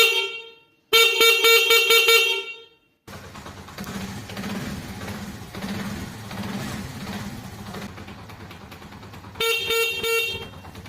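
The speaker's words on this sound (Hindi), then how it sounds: "जैसे हम हॉर्न प्रेस करेंगे ये देखिए" A motorbike horn blares in a loud, buzzing honk for about two seconds, then a running engine and background hum follow, and the horn sounds again near the end.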